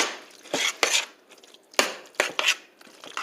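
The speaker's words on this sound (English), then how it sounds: "So all I do now is just mix everything together." Ingredients mixed with ketchup in a bowl, with a utensil clinking and scraping against the dish in several sharp bursts separated by quieter stirring, close and alone.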